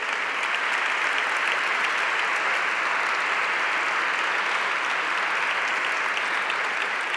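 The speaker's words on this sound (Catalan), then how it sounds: "Aplaudiments" Loud, sustained applause from a concert audience for musicians at a Balearic Islands day celebration, a dense and even wash of clapping with no break across seven seconds.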